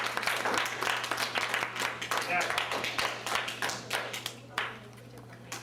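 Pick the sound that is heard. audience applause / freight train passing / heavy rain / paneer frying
audience applause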